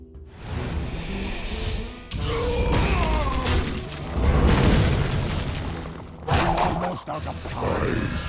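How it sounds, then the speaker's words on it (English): The Dark Bomb card in a Hearthstone match makes a booming video-game explosion with bursts and shattering effects, several loud hits across a few seconds with layered game sound effects. "looks like Dark Bomb is going to be the play for Greanbyte"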